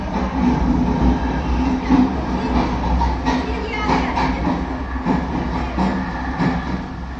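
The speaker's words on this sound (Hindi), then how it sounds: "वहाँ देखो, मालगाड़ी चल पड़ी है। डीजल गाड़ी है, 20 डिब्बों वाली।" A diesel goods train of about 20 wagons, some of them tankers, rumbles past steadily and loudly with continuous wheel and engine noise and rhythmic clatter near a railway museum town at Wai.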